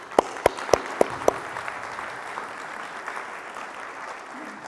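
Audience applause at a housing conference keynote for the board of directors opens with a few sharp, close claps, then settles into a steady crowd clapping that carries on at moderate volume.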